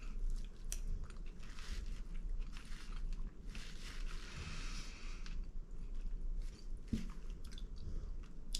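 A mouthful of shepherd's pie with gravy and mashed potatoes is chewed close up, soft wet squishing and quiet biting in an irregular rhythm, faint and without speech.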